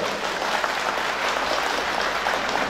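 Steady applause from a crowd, dense clapping sustained throughout without a break.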